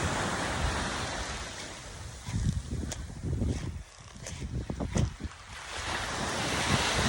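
Steady roar of ocean surf at Puerto Galera with strong wind buffeting the microphone, waves swelling and washing in continuously.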